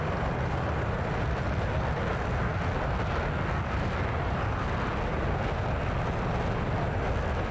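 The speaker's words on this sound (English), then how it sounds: "Damn, engine's too loud." Steady, dense engine roar from a player-built aircraft in the flight game Flyout, loud and unbroken throughout with no talking.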